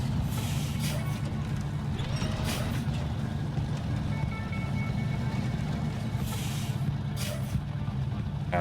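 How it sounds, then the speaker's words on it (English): A rescue truck in a video game pulls away after its parking brake is released: a loud, continuous low engine rumble with occasional brief hisses, and faint voices in the background. "Parking brake off."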